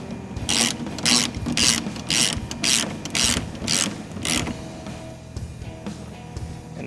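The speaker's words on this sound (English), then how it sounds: "Use the button head bolts provided in the kit. And tighten those down." A hand ratchet tightens button head bolts on the lid of an AFE Stage 2 Pro-5R intake kit in a Toyota 4Runner, clicking in about eight rhythmic bursts, close and clear, then tapering off.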